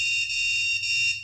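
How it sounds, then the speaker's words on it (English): A steady, high-pitched electronic tone sounds continuously from the remote of an anti-bark shock and vibration dog collar, loud and close, with no talk over it. "This is the beep function."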